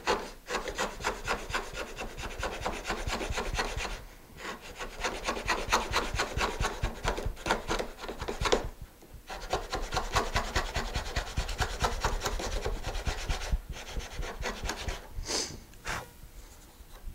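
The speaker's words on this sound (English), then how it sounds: "I'm going to go ahead and just do one more pass here to show you cleaning up this cheek here" Lie Nielsen router plane cleaning up a tenon cheek, giving a steady close scraping rasp of repeated short shaving strokes in long runs with brief pauses, no talk.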